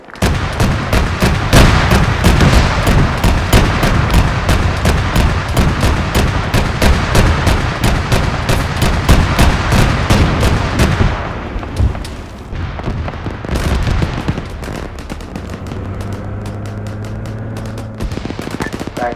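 A tank engaging in sustained, loud automatic gunfire in a military video game, rapid rhythmic shots for about eleven seconds, then scattered fainter shots and explosions with engine rumble.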